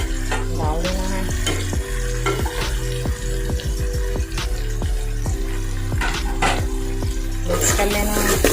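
Chili powder, turmeric, coriander and salt stirred into sizzling chicken and bitter gourd frying in a pan, with steady loud sizzle and repeated scraping stir strokes throughout, no talking.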